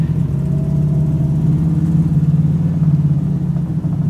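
Interior drone of a Mercury car cruising smoothly on the road, a steady low engine hum with constant road rumble, close and unbroken, no talking.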